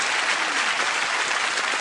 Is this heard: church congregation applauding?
yes